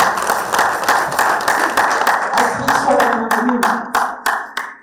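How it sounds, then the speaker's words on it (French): Studio audience applauds filmmaker Astrid Ariane Atodji as she joins a ciné-club talk show set, a steady mass of clapping that turns into distinct, rhythmic claps toward the end, with a voice talking faintly underneath. "Applaudissez pour elle."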